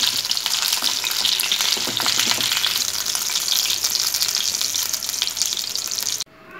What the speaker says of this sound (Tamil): எடுத்துடலாம் இப்போ ஃப்ரை ஆயிடுச்சு நல்லா